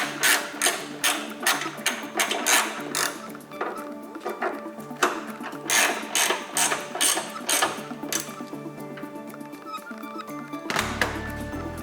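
A ratchet wrench clicks in quick bursts while tightening bolts on an aftermarket Hellcat-style vented hood on a 2015-or-later Dodge Charger. The close mechanical clicking comes in repeated runs with brief pauses.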